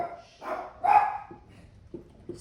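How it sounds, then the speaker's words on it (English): Dogs bark in a few scattered yaps, moderately close and fairly quiet, with short gaps between the barks and no talking. "You hear my dogs going crazy, huh?"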